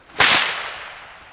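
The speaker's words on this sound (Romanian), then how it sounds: "scoate biciu de acolo, Tete" A whip cracks once outdoors in a forest during a group ATV and scooter outing, a single sharp, loud snap with a long fading tail.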